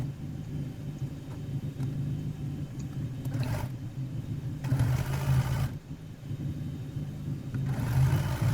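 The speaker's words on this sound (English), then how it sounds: "I'm just sewing one of those little yellow strips in between the 2 larger strips" A sewing machine hums and whirs steadily while stitching narrow fabric strips together for a quilted bag, with brief pauses and restarts and a few louder mechanical bursts, close and continuous.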